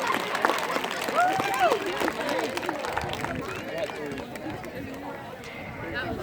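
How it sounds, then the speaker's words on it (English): Crowd applauding and cheering for graduating cheerleaders at a recognition event, a dense stretch of clapping mixed with chatter and a voice speaking over it. "Give a big round of applause for all of our cheerleaders graduating."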